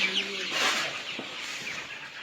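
Chickens on a farm cluck and call close by, with a faint voice in the background and a steady layer of rustling and pecking noise throughout.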